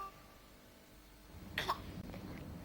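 A child's single short cough bursts out near the end, close and fairly loud, after a stretch of quiet room tone.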